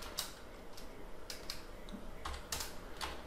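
Code being typed on a computer keyboard, with irregular quick key clicks and a few heavier strokes spread across the clip, close and fairly quiet with no talking.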